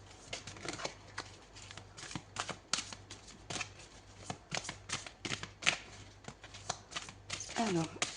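Tarot cards are shuffled by hand in a rapid run of crisp riffling slaps and flicks, close and quiet, with a brief voice near the end.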